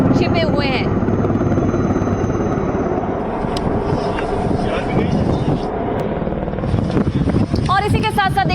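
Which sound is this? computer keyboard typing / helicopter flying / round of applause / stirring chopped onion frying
helicopter flying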